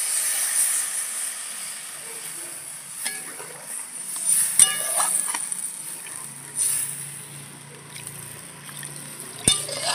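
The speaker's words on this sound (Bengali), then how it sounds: "আমি এখন গরম জল দিয়ে দেবো। গরম জল দিয়ে দিচ্ছি।" Hot water poured into frying masala for a catfish (magur) curry, giving a steady sizzling hiss with occasional sharp pops and splutters, close and moderately loud, with no voices.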